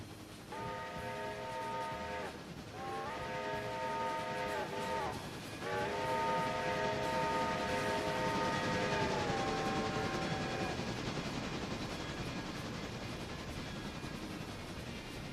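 Switcher locomotive in the railroad game Railroader, a chorded horn sounding in several blasts, short then long, over a steady diesel engine rumble that carries on after the horn stops.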